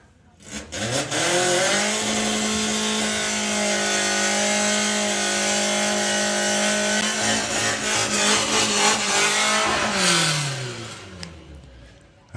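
An Audi TT race car in a VW Sportsman drag race pulls away, its engine note holding loud and steady for several seconds before fading, with crowd and track noise around it.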